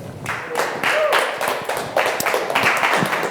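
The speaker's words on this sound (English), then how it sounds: "Let's give him a rowdy round of applause as Logan comes up to present his concept." A short burst of clapping from a small group, loose and uneven, with a few louder claps standing out.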